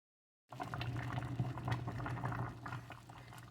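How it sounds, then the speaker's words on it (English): Jam bubbles at a vigorous boil in a canning pot, a dense, steady burble of popping bubbles and low rumble, close and fairly quiet, starting abruptly after a moment of silence. "So I'm gonna stand here and just stir, continue to stir while it boils."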